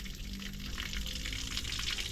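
Water running and trickling from a hole in a water tank, a faint, continuous close-up splashing flow with no clear pauses.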